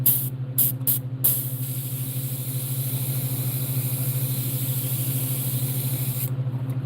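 A steady hiss of an airbrush spraying paint onto a crappie fish model, with a few short bursts at first, over a constant low mechanical hum; the hiss cuts off near the end.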